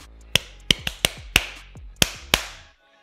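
Seven sharp hand claps in an uneven rhythm, clustered in a quick group before two later claps spaced out, each crisp and close, set for a listener to count in a guessing game, with no talking.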